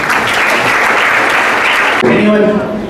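Students and teachers at a school drug-awareness programme clap together in dense, loud applause, with a voice rising over the clapping near the end.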